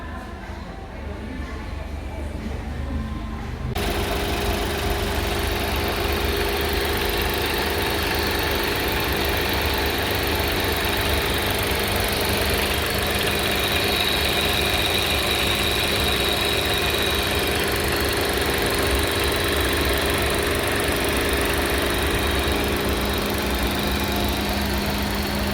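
A Chevrolet Tracker Premier 2021 with a 1.2 turbo engine idles steadily, a continuous low hum with a faint high whine, quieter for the first few seconds and then constant and close.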